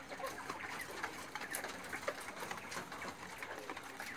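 Quails in a hot, crowded lower tier of an aviary give faint, busy chirps and clucks amid a constant dense shuffling and rustling background, with no voices.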